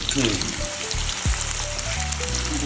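Onion frying in hot oil for murmura chivda gives a steady close sizzle and crackle, with people talking over it and a brief clink partway through.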